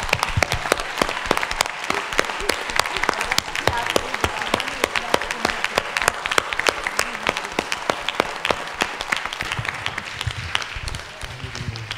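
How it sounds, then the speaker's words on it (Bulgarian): A church congregation applauds during a Sukkot tent-raising worship gathering in Pazardzhik, sustained dense clapping for the whole stretch with voices and shouts mixed in. "И все эти аплодисменты мы даем сейчас тебе, Господь."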